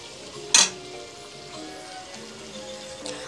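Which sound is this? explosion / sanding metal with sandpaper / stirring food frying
stirring food frying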